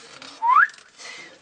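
A single short rising whistle, clear and close, in a quiet room during paper quilling craft work.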